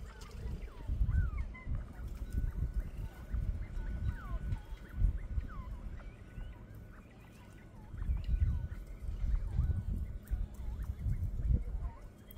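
Pet quail calling at home, short chirping calls repeating over a busy indoor background with soft rustling and low thumps.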